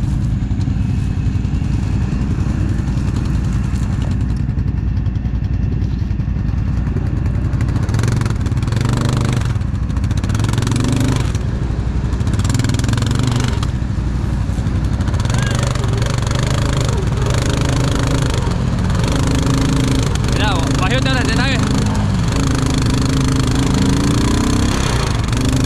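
An off-road vehicle's engine drones and revs hard while stuck in compacted mud on rough terrain, a loud sustained mid-pitched roar with rising surges, clattering and brief voices underneath.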